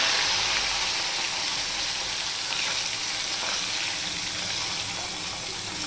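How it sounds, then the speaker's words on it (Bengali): Bata fish, two at a time, fry in hot oil with a steady, dense sizzle that holds close and even throughout, with no voices. "আমি দুটো দুটো করে বাটা মাছ দিয়ে ভেজে নেবো"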